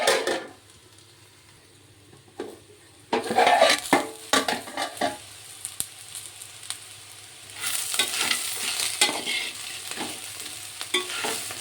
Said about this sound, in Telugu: మధ్య మధ్యలో ఇలా చూసుకొని కలుపుకొని ఫ్రై చేసుకుంటే సరిపోతుంది, కింద అడగంటకుండా